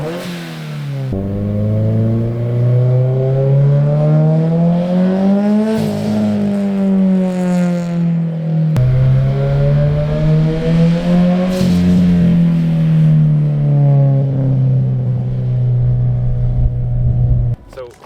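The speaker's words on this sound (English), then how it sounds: "get you a little bit of a turbo sound just to get a little sound comparison" A turbocharged Subaru BRZ engine revs loudly nearby, the pitch rising and falling through several long pulls and drops, with a steady droning tone throughout and a brief cut-off at the end.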